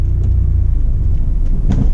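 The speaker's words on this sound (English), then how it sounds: "This is me letting go of the clutch without giving gas at all." A manual car stalls as the clutch is released with no throttle: steady low engine rumble, a brief jolt and shudder near the end, then the idle dies, with no talk.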